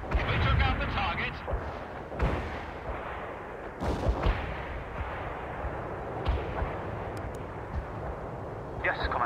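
Artillery barrage in World in Conflict, with repeated heavy booms and thuds spaced a second or two apart, some near and loud, others more distant, under radio chatter and voices.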